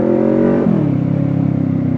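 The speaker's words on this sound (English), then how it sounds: "As you can tell, it's noisy. Very little restriction on this exhaust." A 2019 Kawasaki Ninja 650 motorcycle with a low-restriction aftermarket exhaust revs loudly up close, a sustained rough engine drone that dips in pitch partway through and holds steady.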